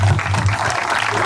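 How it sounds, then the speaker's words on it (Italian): Applause breaks out for the Rizzuti family at the Luigi Rizzuti memorial event: a dense, steady wash of clapping from a crowd, held over a low hum for the whole moment. "Applausi di tutti quanti noi"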